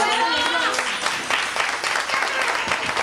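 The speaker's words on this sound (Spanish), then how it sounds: "Fuerte el aplauso." Guests at a family celebration give a round of applause, a brief burst of clapping mixed with voices talking and calling out over it.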